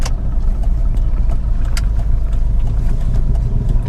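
Ford Everest 2005 first-generation XLT with a 2.5 turbo diesel and automatic gearbox, engine droning steadily from inside the cabin as it accelerates, a low continuous rumble with no talk.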